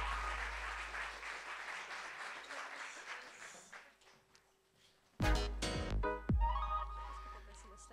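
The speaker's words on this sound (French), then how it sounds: "Je vous demande de lui faire un tonnerre d'applaudissements pour lancer cette soirée." An evening lecture audience on DNA multiomics gives sustained applause that tapers off over about four seconds, then a loud thump and electronic tones follow.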